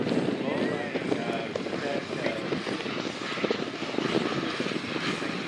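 A Rebel Max radio-controlled model airplane flying at a Joe Nall demo show, its engine giving a steady buzzing drone under people talking nearby.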